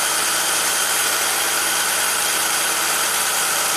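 A Cadillac Allante's Northstar V8 holds a fast, elevated idle, giving a loud, close, unbroken mechanical drone with a steady engine hum and no pauses throughout.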